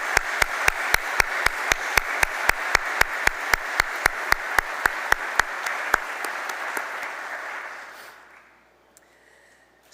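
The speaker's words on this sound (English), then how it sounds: "Please join me in acknowledging his contributions with a round of applause." Audience at a medical school white coat ceremony applauds steadily, with a close repeating sharp clap in a fast even rhythm over the crowd's wash, all fading out around eight seconds.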